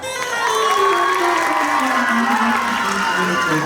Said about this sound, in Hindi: आपकी तालियां मुझे बताएंगी कि मैं पढ़ूं या ना पढ़ूं।